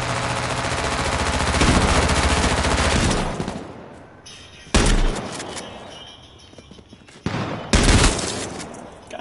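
Heavy shotgun blasts in the survival shooter H1Z1 come as a dense, roaring run of close fire for several seconds, broken by a gap, then two more loud, abrupt bursts with short tails.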